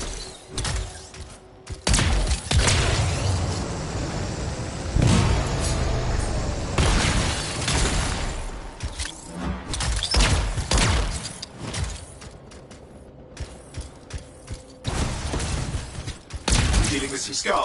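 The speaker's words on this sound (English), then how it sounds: "It'll be a contained explosion." Explosions and heavy gunfire in the video game Anthem, a dense run of booming blasts and rapid shots that stays loud and continuous with brief lulls, mixed with game sound effects.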